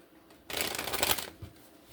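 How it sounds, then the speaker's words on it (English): A deck of tarot cards is reshuffled by hand in a quick, close riffle that lasts under a second and rises out of near silence before fading. "We're going to reshuffle."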